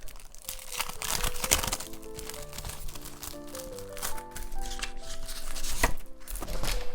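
Paper for cyanotype printing is handled and crinkled in a busy stream of crackles and rustles while soft musical tones play underneath.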